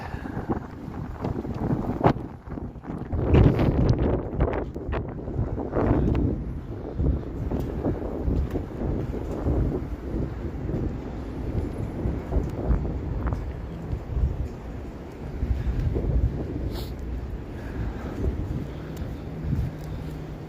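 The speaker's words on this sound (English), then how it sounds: "Oh, brutal wind. Brutal wind alert." Strong freezing wind buffets the microphone outdoors in Toronto on a winter day around -20°C, a steady low roar with gusty surges throughout and no clear talk.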